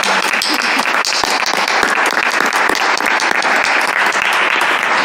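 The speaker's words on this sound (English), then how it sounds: "You may applaud." Loud, sustained applause from an audience at a town deliberative session, dense clapping with sharp individual claps standing out, continuous for several seconds.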